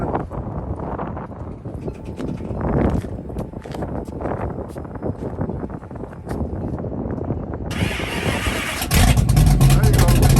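A car's engine cold-starts for its first start of the morning at a Caffeine & Cars show in Choctaw, Oklahoma, firing up and revving loudly near the microphone near the end, with wind noise and people talking around it.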